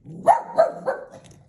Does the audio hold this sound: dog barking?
yes